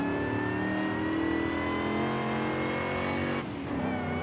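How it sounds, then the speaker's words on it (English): Supercharged V8 of a 2003 Ford F-150 SVT Lightning in Forza Horizon 5 holds a steady, loud drone, with a high supercharger whine rising slowly above the engine note. "That supercharger whine above the baseline of the V8."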